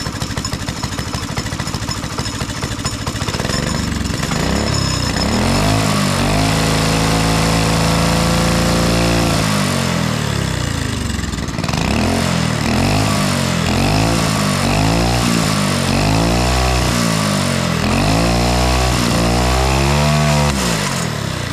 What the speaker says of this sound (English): the tapping you're hearing is the clutch just spinning around freely